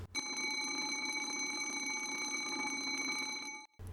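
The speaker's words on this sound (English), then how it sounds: "a loud bell rang" A loud electric alarm bell rings continuously for several seconds, then stops abruptly.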